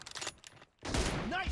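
Bursts of rapid gunfire ring out in a video game, a quick volley followed by a brief pause and a louder cluster of shots, with a voice chatting over the action.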